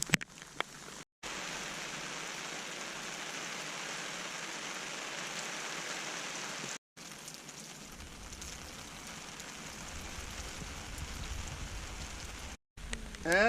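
Steady rain falls on a campsite, a dense even hiss of drops hitting surfaces close by that runs almost without a break, briefly cut off a few times and with no voices.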